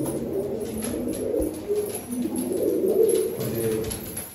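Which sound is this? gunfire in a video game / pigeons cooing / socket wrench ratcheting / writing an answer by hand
pigeons cooing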